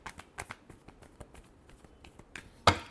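Tarot cards are shuffled in a quick run of soft, irregular flicks and taps, ending in one sharp slap as the deck comes together.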